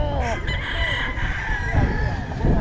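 Bullstag and cock roosters crow at a Philippine gamefarm, several loud overlapping cock-a-doodle-doos close by with some clucking, under a voice.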